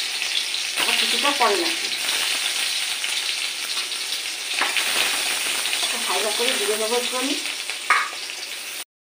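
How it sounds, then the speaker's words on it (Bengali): Chopped green chilli and garlic frying in oil, a continuous crackling sizzle with a few stirring scrapes while a person talks briefly over it. "ভাজা হয়ে গেছে, কাঁচা লঙ্কা আর রসুন কুচি ভাজা হয়ে গেছে।"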